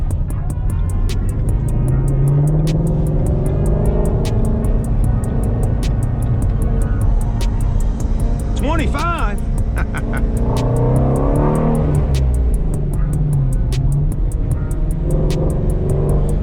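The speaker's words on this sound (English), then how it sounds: "I want y'all to hear the exhaust on this car" A 2018 Ford Mustang Shelby GT350's exhaust rumbles and burbles steadily while driving under a bridge, with a brief rise in revs partway through; someone speaks briefly.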